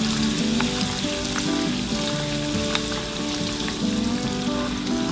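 Salted caramel sauce with butter bubbling and sizzling in a pan while being stirred, a continuous close frying hiss with soft spoon movements throughout.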